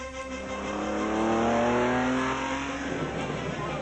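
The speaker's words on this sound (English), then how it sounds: "11 racing cars thundered towards the city centre, foot to the floor." Racing cars accelerate hard through Venice toward the city centre, a loud, sustained engine roar swelling as the pack closes in and passes, with rising revs and no talking.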